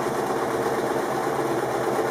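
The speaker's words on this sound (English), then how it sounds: "And then sew along that stitch line." A sewing machine runs steadily, stitching fabric for an origami candle mat, a fast continuous mechanical whir heard close and alone.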